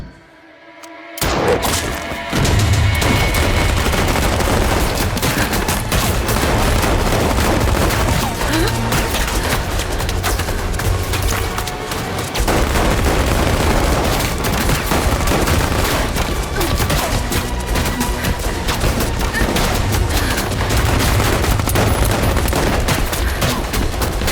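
Sustained gunfire in an action movie scene, a dense and loud barrage of rapid shots and crashes that runs almost without a break.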